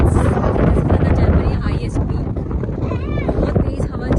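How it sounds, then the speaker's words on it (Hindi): Strong wind blasting across the snowy Zugspitze summit in Germany at minus five degrees, a loud continuous roar buffeting the microphone throughout. "बहुत तेज हवा चल रही है"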